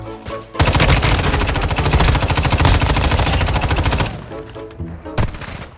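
Call of Duty in-game automatic gunfire with tracer rounds: a loud, rapid sustained burst of machine-gun shots lasting several seconds, then a few isolated shots and trailing game sounds.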